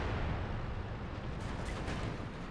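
A Waffenträger tank destroyer fires in World of Tanks, a dull, distant boom rolling beneath steady low battle rumble, with no voices.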